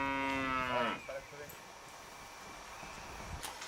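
A loud, drawn-out cow moo fills the first second, then fades into quiet outdoor ambience with faint rustling.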